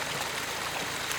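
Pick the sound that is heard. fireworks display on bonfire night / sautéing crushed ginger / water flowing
water flowing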